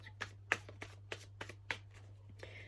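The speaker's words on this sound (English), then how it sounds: "I'm gonna pull like a couple more cards." Tarot cards shuffled and drawn from a deck, a handful of sharp riffling snaps spaced roughly half a second apart, close and fairly quiet over a steady low hum.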